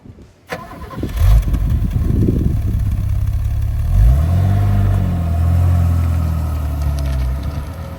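A 1979 Opel Monza series 1 starts up with a crank and catch, then its engine settles into a loud, steady rumble as the car pulls away and drives, revs rising and easing, close and unmasked.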